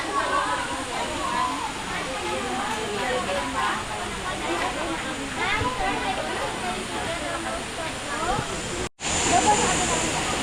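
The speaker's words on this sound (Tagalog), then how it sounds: "Waterfalls entrance." Rushing water at the waterfall of Villa Escudero gives a broad, steady roar heard up close, with voices talking over it and a brief dropout near the end.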